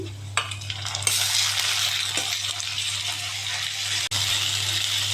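Ginger-garlic paste goes into a pan of fried onions for a jackfruit curry, setting off a sudden bright sizzle that carries on steadily over a low constant hum, with a few small clinks.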